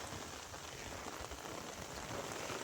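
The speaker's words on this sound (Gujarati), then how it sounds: "વરસાદ શરૂ થઈ ગયો" Heavy rain pours steadily in Mahuva, Bhavnagar, a dense continuous hiss of drops hitting surfaces and an umbrella, with a low rumbling undertone and no voices.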